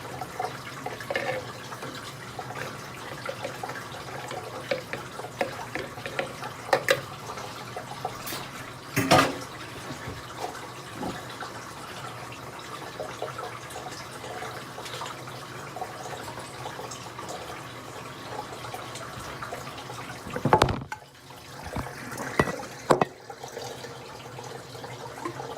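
Water running steadily, as if a bath is being filled, a continuous faint wash of flow with occasional splashy bursts.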